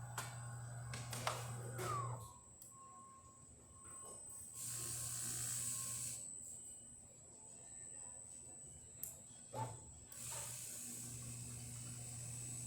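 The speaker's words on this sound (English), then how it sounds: "So it's going to grind, it's going to go into brewing position, push against the mechanical valve, and it's going to start brewing." A DeLonghi Eletta Cappuccino espresso machine, just back from a full tune-up, grinds beans and shifts into brewing position against its mechanical valve. Quiet, intermittent bursts of mechanical whirring and ratcheting come with sharp clicks in between.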